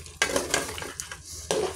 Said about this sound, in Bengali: আর এই সাইডে আমার খাসির রেজালা রান্না চলতেছে, আমি খাসির রেজালা রান্না করতেছি।